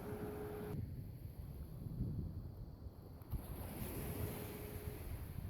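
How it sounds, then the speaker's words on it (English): Ocean surf at Doran Beach in Bodega Bay, a steady broad wash of waves and wind noise that stays fairly loud and constant throughout, with no voices. "I'm just going to enjoy the surf and the sand."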